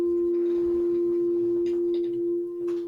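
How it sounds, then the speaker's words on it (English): An FM synthesizer sine wave under phase modulation, heard as a steady sustained pure tone with wavering overtones and bursts of bright modulated texture near the end, played alone. "it's into like real crazy phase modulation sound territory"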